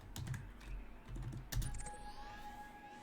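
Computer keyboard keys clatter in quick, uneven bursts with a few heavier thumps, close and fairly quiet, while a thin electronic tone hums in the background.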